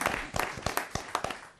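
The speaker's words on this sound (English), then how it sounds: "You're supposed to clap again." At a city council meeting, a modest audience claps for a championship softball team. The claps are sparse and sharply separated, a small uneven scatter of hands that fades quickly rather than building into a full ovation.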